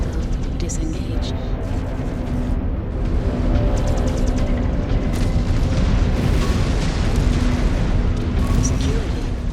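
Incoming missiles burst in the MechWarrior 5: Clans video game as a dense rumble of booms and blasts, with a cockpit voice speaking over the battle noise.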